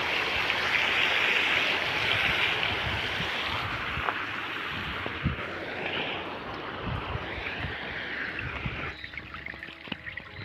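Water from an electric farm pump pouring down a dirt irrigation channel into an onion field, a constant close rushing wash that eases slightly and turns more uneven toward the end, with no speech.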